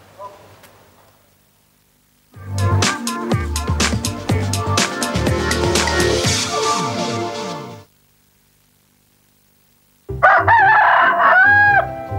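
Chickens and a rooster in a poultry coop: a long, loud crow runs for several seconds after a quiet start, then silence, then another burst of crowing and clucking near the end.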